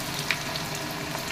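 Chopped onions hit hot oil already holding cloves, cardamom and cinnamon, giving a soft, steady sizzle with faint clicks throughout.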